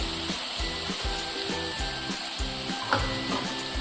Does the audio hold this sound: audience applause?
no